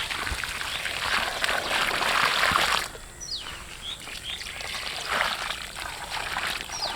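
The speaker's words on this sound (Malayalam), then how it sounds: "ഇതിലേക്ക് നമുക്ക് കുറച്ചുകൂടി വെള്ളം ഒഴിച്ച് തരാം." Water poured from a bucket, a steady splashing gush for a few seconds that cuts off, then returns as lighter trickling and spattering, close by with faint birdsong behind.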